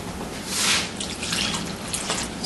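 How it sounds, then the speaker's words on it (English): Water pours from a tap into a cooking pot for an almond-thickened sauce, a bright splashing stream that swells briefly and then runs steadily, close and fairly loud. "So now I've added maybe about a cup of water"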